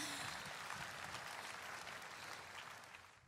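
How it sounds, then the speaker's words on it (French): A church congregation claps in steady, dense applause. The sound is even and sustained and fades slightly toward the end, with no voices over it. "Applaudissons pour Jésus."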